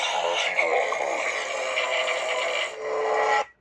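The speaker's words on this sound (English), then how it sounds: "It's the sound of Mjolnir from any of the Marvel movies where he spins it." A KyberLight lightsaber plays a Mjolnir hammer-spinning sound effect, a loud, steady whooshing roar with a humming edge that holds for about three seconds and then cuts off abruptly.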